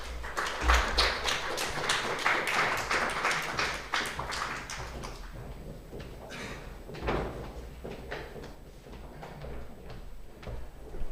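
Brisk applause from a symposium audience inviting round-table panel guests to the front, loud and dense at first, then thinning into scattered claps and fading out.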